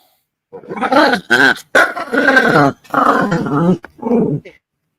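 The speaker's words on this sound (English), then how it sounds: "That was my dog." A dog growls and barks in several short, loud, throaty bursts close by, with brief pauses between them.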